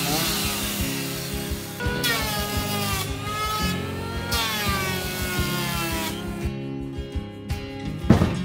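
Small chainsaw with a blunt chain cutting through waste wood, a buzzing engine whine that rises and falls as the cut bogs and clears, close and continuous, ending in a sharp knock.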